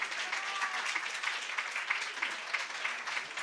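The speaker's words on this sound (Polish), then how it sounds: "brawa" Steady applause from an audience at a spoken word poetry festival in Warsaw, dense and sustained throughout at moderate loudness with no talk over it.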